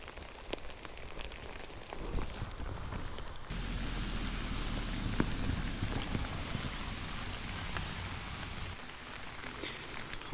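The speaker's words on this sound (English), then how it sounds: "And it's raining." Rain falls on a jacket while camping in a sudden storm, a soft, steady patter with scattered drops, close and quiet, thickening in the middle stretch.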